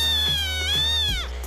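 A Munchkin cat gives one long, clear meow that rises and bends in pitch before trailing off, close and alone.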